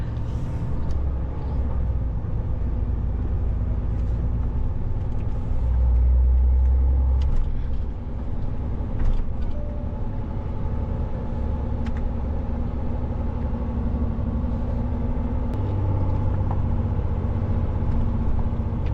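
A car engine-braking downhill on a snowy road in Europe, heard as a steady, low, continuous rumble from inside the vehicle, with no talking.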